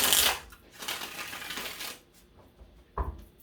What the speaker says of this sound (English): So I'm going to give this 3 shuffles for you